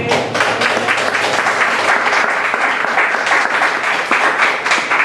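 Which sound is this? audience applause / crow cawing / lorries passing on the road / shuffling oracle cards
audience applause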